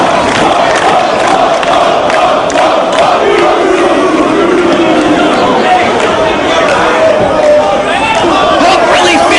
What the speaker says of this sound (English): really feeding off the energy of this crowd